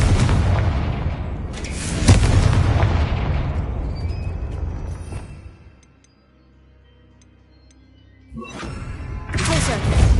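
Confringo spells blast in a Hogwarts video game: a run of heavy booming explosions at the start, a quiet lull in the middle, then more loud blasts near the end, with a voice in places.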